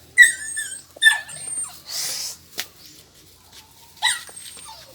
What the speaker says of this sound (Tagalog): Rinig yung aso namin.